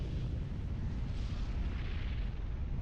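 Artillery bombardment in the real-time strategy game Supreme Commander: Forged Alliance, a continuous low rumbling roar of distant shelling, steady and fairly quiet with no distinct individual blasts.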